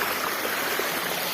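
A popular waterfall in Uttarakhand pours steadily, a dense, unbroken rush of water filling the whole clip at constant loudness with no voices.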